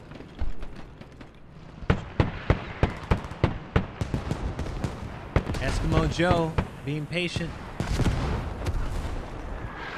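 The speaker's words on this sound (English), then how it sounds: "You see so much artillery going off, so many explosions, hell cannons." Hell cannon artillery and explosions in a military shooter game, a rapid run of sharp booming impacts with rolling rumble, loud and close, under steady narrating speech.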